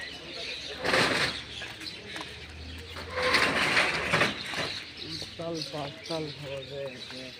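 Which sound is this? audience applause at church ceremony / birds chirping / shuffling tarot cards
birds chirping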